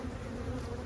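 Honey bees from an aggressive hive form a dense, steady buzzing drone, close and continuous with no pauses and no voices.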